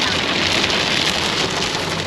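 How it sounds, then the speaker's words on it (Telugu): Heavy rain pours steadily onto a highway in China, a dense, loud, unbroken hiss of drops drumming on surfaces, with a faint low rumble underneath. "వాన మాత్రం తగ్గట్లేదు"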